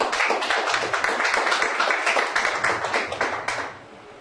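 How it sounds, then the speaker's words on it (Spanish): Church congregation clapping for God during a Spanish-language Bible study on apostles, a dense run of hand claps lasting several seconds before tapering off near the end. "Den un aplauso a Dios por eso."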